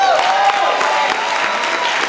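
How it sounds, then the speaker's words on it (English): A live crowd at a Kwanzaa celebration showcase claps steadily and loudly throughout, a dense continuous wash of applause with a faint voice or tone running through it near the start. "Y'all come on, clap your hands up."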